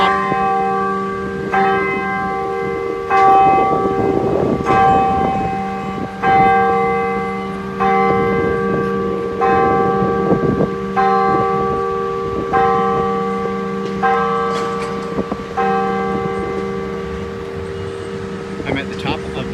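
Church bells ring out from inside a bell tower for the hour, loud and close, each stroke followed by a long humming resonance and repeated at a slow even pace while a voice talks at times over the ringing.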